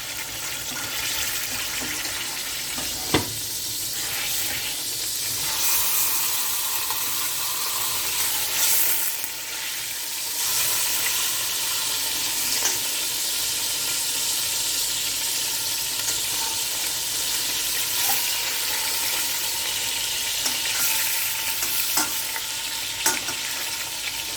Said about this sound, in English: We'll get it on the medium to high heat, and all we're wanting to do is just to seal off the meat.